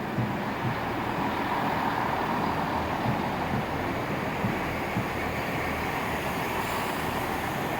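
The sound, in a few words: passing express train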